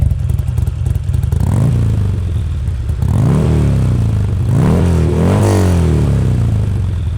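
A big Harley V-twin engine in a sport bike rumbles loudly and revs up several times in quick bursts, close by and without any talking.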